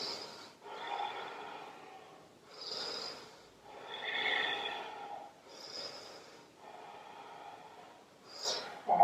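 Slow, deep breaths during a hatha yoga flow, several long inhales and exhales in a steady rhythm, close and soft with nasal airiness and no talk.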